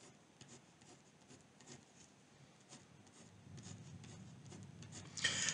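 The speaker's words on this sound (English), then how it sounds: "So let me draw these in here." Soft scratching strokes of a marker or chalk drawing on a board during a chemistry lecture, faint and irregular with a louder rubbing burst at the end.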